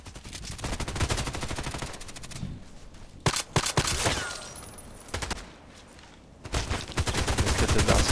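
Loud bursts of in-game gunfire from an EBR rifle in a shooting video game come in rapid repeated shots, with a couple of sharp single cracks and short quieter gaps between volleys.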